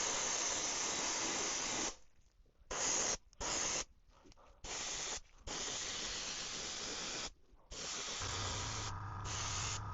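An airbrush sprays silver paint onto a 3D printed brown trout bait, with a close, steady hiss in several long bursts separated by short silences.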